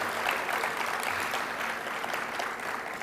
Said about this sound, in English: First, round of applause for all the speakers.